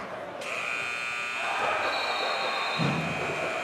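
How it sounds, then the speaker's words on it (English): A loud end-of-half buzzer blares continuously over a noisy high school boys' basketball gym crowd, holding a steady tone throughout. "3 points good as the buzzer sounds"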